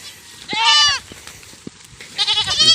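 Two loud, wavering Nubian goat bleats close by, one early and one near the end, separated by a short pause with faint rustling.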